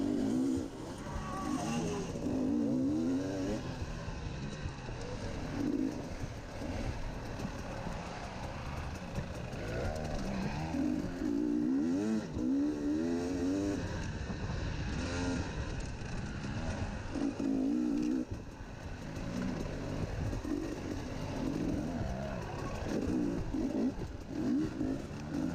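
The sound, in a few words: dirt bikes racing in a cross-country race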